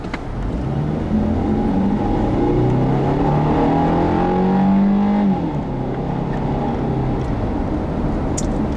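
A 2013 Subaru Forester 2.5i accelerates on a test drive, its engine note climbing steadily in pitch through the gears inside the cabin, loud and continuous over road noise, with no talking.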